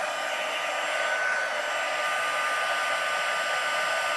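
A heat tool blows steadily for about four seconds while melting embossing powder on an autumn greeting card, a constant loud whooshing hum with a faint tonal whine, no talking.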